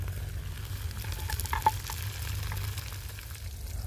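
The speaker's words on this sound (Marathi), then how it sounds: "कढईमधला टोमॅटो टाकून घेते" Tomatoes fry with soft, steady sizzling in a kadhai with a few light stirring clinks, fairly quiet and without talk.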